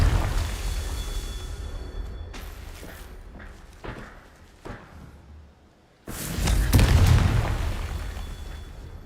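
A Confringo blasting spell from a magic video game goes off in loud booming bursts: several sharp blasts in the first few seconds, then a heavier, sustained explosion roaring up around the sixth second and fading slowly.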